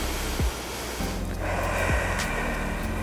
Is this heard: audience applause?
no